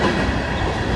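BNSF freight train with a mid-train DPU locomotive rolling past near a rail wye outside Ashland, Nebraska, a steady close rumble of wagons and wheels filling the whole second with no voices.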